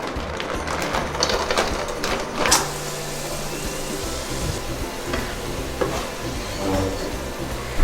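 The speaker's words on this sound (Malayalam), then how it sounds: "ഇനി ഇതിലേക്ക് കുറച്ച് ഉണക്കമുന്തിരിയും കൂടെ ഇട്ടിട്ട് ഒന്ന് വറുത്തെടുക്കാം." Raisins frying in oil in a pan while making a Thalassery king fish biryani, a steady close sizzle with scattered sharp crackles and spatula clinks throughout.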